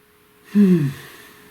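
One deep breath drawn in near the microphone, a short, breathy intake that rises sharply and then trails off softly, heard alone against a quiet background.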